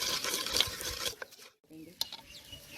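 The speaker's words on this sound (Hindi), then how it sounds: "तो इसमें अजवाइन ऐड करेंगे और हम फ़ौरन से इन चीज़ों को फ्राई करेंगे" Spices with ajwain stirred and deep frying in a pot in a village kitchen, a crackling sizzle with scraping stirs, briefly dropping out before faint clinks and frying resume.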